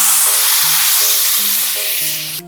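Freshly ground curry paste hisses and sizzles loudly in a hot pan for fish curry, a dense, steady frying crackle with no voices.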